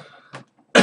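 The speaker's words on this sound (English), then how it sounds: "As I'm coughing all over the place." A quick cough followed by a louder, harsher cough burst, close to the mic, with a brief quiet pause between them.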